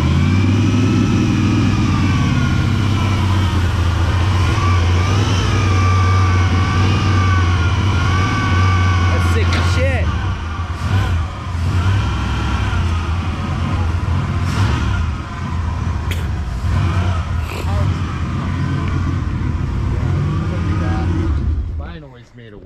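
A long-parked plow truck's engine runs at a steady idle with a strong low drone, rising and wavering in pitch as it revs at times, loud and close until it cuts off abruptly at the end.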